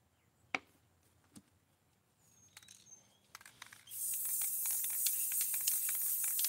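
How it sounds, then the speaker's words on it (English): Spray paint hisses steadily from a can onto a rolling tray after a few scattered clicks and handling noises, a close, loud and continuous spray that runs to the end. "Once I spray that, I'll come back and I'll do another layer"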